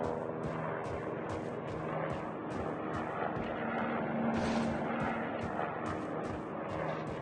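Helicopter rotor chopping during a Call of Duty Mobile match, a steady rhythmic thump overhead mixed with dense game gunfire and explosions, continuous and fairly loud throughout.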